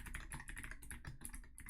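Rapid keystrokes on a computer keyboard, a dense, irregular stream of soft clicks and taps, close but quiet, with no talking.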